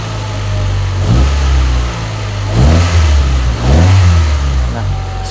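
Honda Civic Ferio engine running after a valve adjustment, idling close by and revved in a few short blips that rise and fall, with a voice speaking over it.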